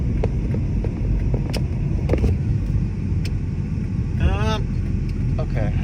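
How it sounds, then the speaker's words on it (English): Road traffic passes in a steady rumble, cars going by continuously in the background while a person talks over it. "a lot of traffic"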